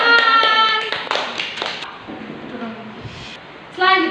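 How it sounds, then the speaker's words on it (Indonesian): A class of students claps their hands in a classroom, with scattered sharp claps mixed with brief tonal sounds and some background chatter. "Oke, tepuk tangan."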